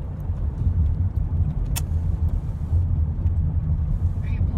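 A car drives along a road at night, giving a continuous low rumble of engine and tyres heard from inside the cabin, steady and fairly even throughout.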